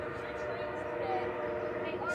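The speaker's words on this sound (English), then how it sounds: "So we got Amtrak, CSX, and now a Marc train." A MARC passenger train at Point of Rocks rumbles past with a steady, moderately distant rolling drone, while people talk over it.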